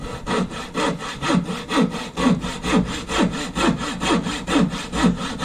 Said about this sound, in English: I'll rasp it into shape.